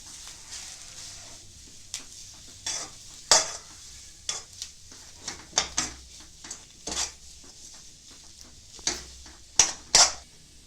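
Spices stirred into a spiced potato filling in a pan for aloo paratha, a series of separate scraping and clinking strokes of a spoon against the pan over a faint low sizzle, close and otherwise quiet.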